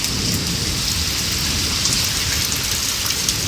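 Steady, dense rain falls in sunshine in Punjab, pouring down without a break, a constant close hiss with no voices.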